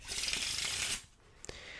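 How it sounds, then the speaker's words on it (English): Playing cards riffled in a pharaoh shuffle, a dense, crisp burst for about a second, then a brief quiet and a light tap of cards settling, at a blackjack table. "Give it another Pharaoh shuffle."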